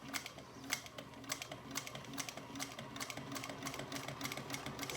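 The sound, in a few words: sewing machine stitching piping onto a vinyl handbag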